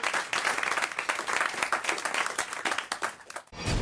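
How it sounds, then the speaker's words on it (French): Studio audience at a French radio broadcast applauds in a dense, steady wash of clapping that runs loud for about three and a half seconds, then cuts off abruptly. "on vous applaudit"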